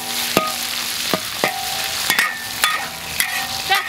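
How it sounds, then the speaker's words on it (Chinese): Fatty pork belly is stir-fried with chili bean paste in a hot wok: a steady sizzle is punctuated by repeated sharp scrapes and metallic clinks of the spatula, loud and close, with no talking. "再加点豆瓣酱进去，我就炒"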